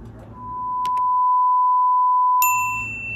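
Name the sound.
notification bell ding sound effect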